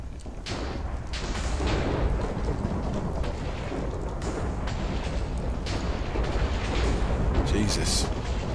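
Thunder from a lightning strike in modded Minecraft rolls in a dense, sustained rumble with crackling bursts, loud and continuous throughout, heavy low-end energy without any clear break.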